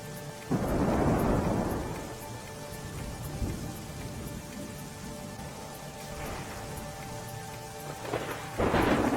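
Heavy monsoon downpour in Nakhatrana, Kutch, Gujarat: a loud roll of thunder opens over steady rain, followed by further rumbles and another strong thunderclap near the end.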